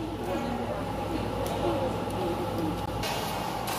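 A rising whine of a Palembang LRT light rail train pulling in, steady and fairly loud over a noisy platform, with murmuring voices in the background.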